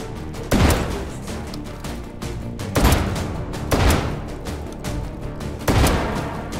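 Gunshots boom in the VR shooter Hot Dogs, Horseshoes & Hand Grenades during a Take and Hold round, four heavy, widely spaced shots ringing out loud and near over a steady game ambience, with no voices.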